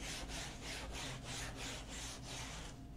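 Foam surfboard blank being shaped into a bottom concave with long sweeping hand passes: a close, steady series of about seven rasping, scraping strokes in even rhythm, continuous and loud with no voices.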